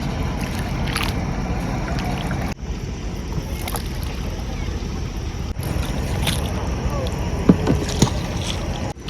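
Boats out on the water in the Sundarbans, a busy river scene with steady engine and water rumble, two abrupt cuts in the sound, and scattered knocks and clatter, with a voice talking briefly.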